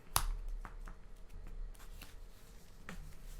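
Playing cards for a Magic: The Gathering match are shuffled by hand in a few quick riffles and taps, sounding close and crisp against a quiet room.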